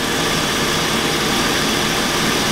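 A Chevy car's air-conditioning compressor runs with the engine, giving a steady, loud, broadband drone and low rumble that holds evenly throughout, with no talking.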